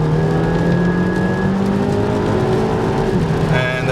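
Audi A3 8P with a stage 2 tune accelerating at full throttle from low revs, a loud, steady engine drone rising in pitch throughout, heard from inside the car.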